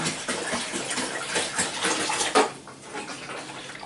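Water pours from the condenser tank of an AEG 6000 series T6DBG821N 8kg condenser tumble drier, a gushing splash into a sink or drain that tapers off, heard alone.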